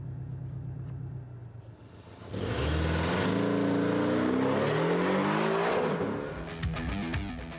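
Porsche 718 Cayman GTS accelerating hard on the Ascari Race Resort track in Andalusia, a quieter engine note surging into a loud, sustained roar with rising gear sweeps and a brief fade near the end, no talk.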